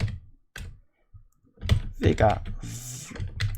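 Computer keyboard typing during a game stream: a few soft scattered key clicks, then a speaker talking over the typing.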